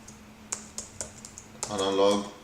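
Quick, light key clicks as Arduino code is typed on a computer keyboard, followed by a voice that starts talking.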